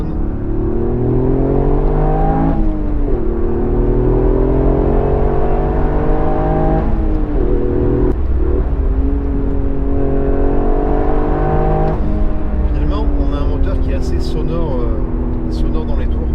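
Toyota GR Yaris 261 hp Track Pack in sport mode, engine revving repeatedly up through the gears with rising pitch sweeps and brief shift dips, loud and close inside the cabin.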